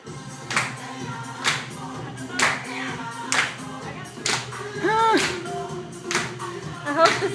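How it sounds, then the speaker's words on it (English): Rhythmic hand claps from dancers rehearsing a routine, sharp evenly spaced claps close by with voices talking and calling out in between. "Do the kick"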